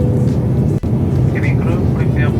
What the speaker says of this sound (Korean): 도쿄 나리타 공항에 착륙합니다.